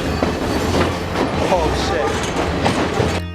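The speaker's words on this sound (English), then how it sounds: "This famous train journey from Ella to KANDY is often described as the world's most scenic" A passenger train on the Ella to Kandy line in Sri Lanka rumbles loudly with steady clattering wheels and a brief squeal, heard close from inside the moving carriage.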